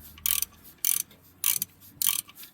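A ratchet on a 2009 GMC mount bolt swinging back and forth without catching, four evenly spaced bright clicking bursts close by, with no talk.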